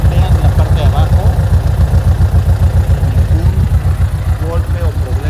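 A cherry-red 1994 VW Sedan idles close by with a steady, low, rhythmic putter, while someone talks over it in Spanish.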